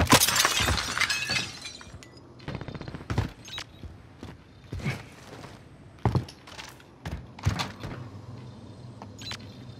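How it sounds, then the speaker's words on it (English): Breaking glass in Call of Duty: Modern Warfare bursts loudly right at the start as a bright, tinkling crash, followed by quieter footsteps, knocks and thumps of in-game movement. "Is that you breaking glass?"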